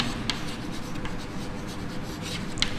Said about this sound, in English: Let me write on the board.